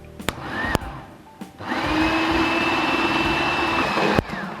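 An electric food mixer whips egg whites and sugar into meringue at speed 2. Its steady, loud motor whine runs for a few seconds, with clicks and clatter just before it starts and as it stops.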